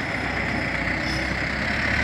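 A heavily loaded new trailer truck straining on a steep mountain road bend at Sicebak, its deep diesel engine droning steadily and continuously at close range with no talk.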